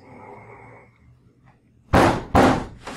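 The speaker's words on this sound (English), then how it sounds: "can you give us 2 knocks?" Three loud, sharp knocks or bangs sound in quick succession during a nighttime ghost hunt, ringing out after a quiet stretch with faint background murmur.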